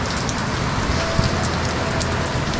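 Heavy rain pouring down steadily during flooding, a dense loud hiss of drops drumming on a surface with no voices.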